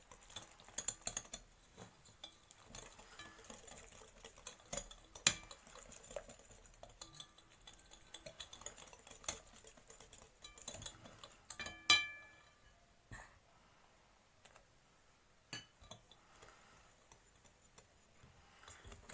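A hand whisk works flour into cheesecake batter in a bowl, giving faint, steady scraping and ticking strokes close by with occasional sharper clinks against the bowl, no talking.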